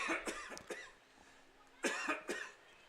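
Several sharp coughs from a commentator ring out close by during a varsity football broadcast, spaced across a few seconds with quiet gaps between them.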